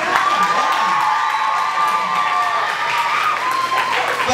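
Schoolchildren in a gym or classroom applaud and cheer after a state representative talks about walking for a fitness challenge: dense clapping with shrill shouts and whoops that stay loud throughout.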